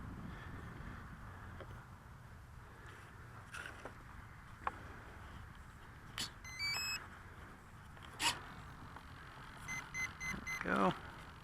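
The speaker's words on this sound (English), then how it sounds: "All that beeping means that it's got power, that it's connected up with the transmitter" A few short electronic beep sequences from a Multiplex Fun Cub RC plane's electronics on power-up, stepped tones rising and falling, over a quiet outdoor background with light wind.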